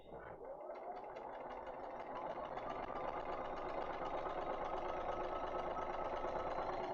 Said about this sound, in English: we're going to sew on that line